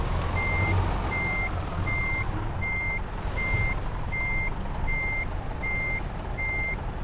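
Reversing heavy truck in Euro Truck Simulator 2: a steady, evenly spaced electronic beep repeats about every three quarters of a second over a constant loud diesel engine drone.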